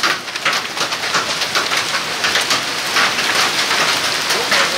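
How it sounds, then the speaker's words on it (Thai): Hailstones pound hard surfaces in a loud, continuous roar during a hailstorm, dotted with sharp individual impacts. "อันนี้คือพายุลูกเห็บครับ"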